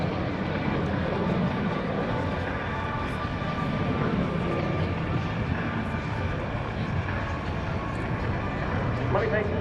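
Jet aircraft from the Warrior Flight Team roaring steadily overhead at the NAS Oceana airshow, a continuous broad engine rush under an announcer's voice over the PA throughout.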